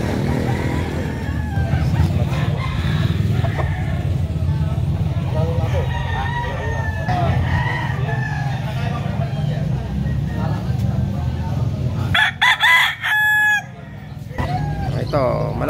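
A rooster crows at a gamecock market in Malasiqui amid a busy outdoor bustle of voices and passing engines, with clucking fowl and chatter throughout.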